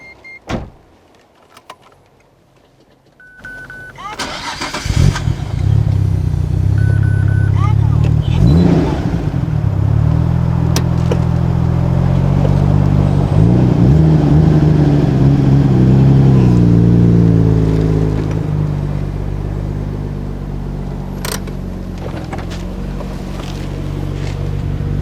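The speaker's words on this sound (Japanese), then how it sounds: "じゃあエンジンかけます。" A Nissan RB26DETT twin-turbo straight-six starts up through a Mine's Silence VX Pro Titanium 3 rear muffler, cranking then catching into a loud, steady idle with rising revs, heard close.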